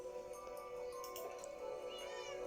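A cat meows in a Minecraft-style building game, a couple of soft mews over a steady low game hum, with faint background chatter.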